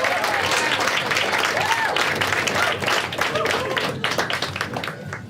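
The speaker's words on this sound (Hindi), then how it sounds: "एक बार खुद के लिए ताली बजा सब लोग।" An audience at a stand-up comedy show applauds with dense, loud clapping that continues throughout and gradually thins toward the end.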